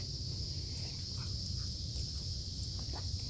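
Cicadas in a Florida forest make a steady high buzz that fills the background, constant and moderately faint, with no voices.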